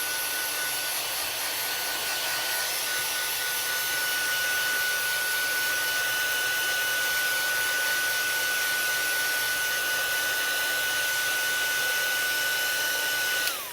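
A handheld heat tool sets stamped ink on a papercraft card, giving a steady, loud, continuous blowing whir with a faint high whine that runs unbroken throughout and cuts off at the very end.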